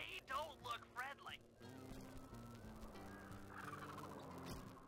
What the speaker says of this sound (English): Watch out for those eagles.